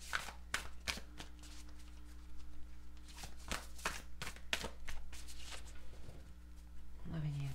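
Moonology oracle cards being shuffled for a reading, a series of soft riffling snaps and slides repeating irregularly up close, with a faint voice briefly at the end.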